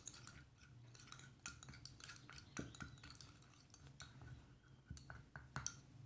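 A spatula stirs and scrapes acrylic resin for an orthodontic appliance, giving faint, irregular clinks and scrapes at close range with no talking.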